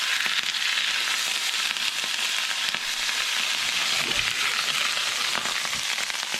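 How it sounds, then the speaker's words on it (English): Garlic fries in a pan beside stuffed squid, making a loud, dense sizzle with crackling pops throughout, heard up close with no talking. "So just add in a little bit of garlic to the pan."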